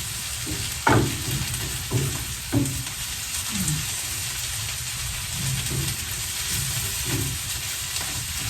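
Homemade noodles roast and sizzle in a pan on a wood stove, with a constant frying hiss broken by occasional stirring scrapes and clinks, heard up close with no talk.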